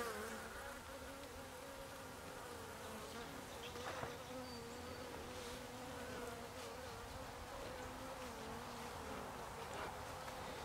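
Many honeybees buzz in a dense, steady drone close by, the hum wavering slightly in pitch as insects move about.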